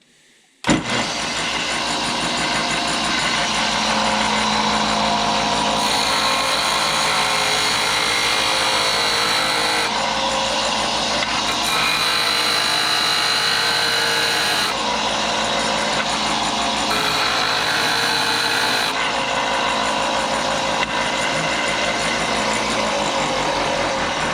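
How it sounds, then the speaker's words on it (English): A regular disc sander grinding flat spots onto a metal coupling for a forge built from an old propane tank: a loud, steady, continuous motor whine with grinding noise, running for the whole stretch without talk. "we're gonna sand a couple of flat spots on this coupling here, and just with the regular disc sander"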